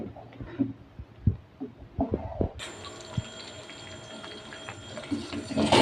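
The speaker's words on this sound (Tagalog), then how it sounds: "Okay guys, kaya muna natin siyang kumulo." Egg caldo soup boiling in a pot, a steady bubbling hiss that swells in the latter half, with scattered clinks and faint background sounds.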